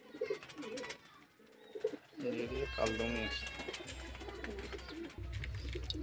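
Pigeons in a Giribaz loft give soft, rolling coos, the first ones thin and faint, then fuller bursts after a pause, against low steady machine hum and background voices.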